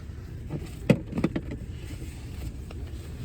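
Car interior on a drive home, a steady low engine and road rumble with a few brief knocks and rattles, close and continuous, no talking.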